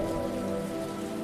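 Steady rain patters on a surface, an even, close wash of drops with no voices.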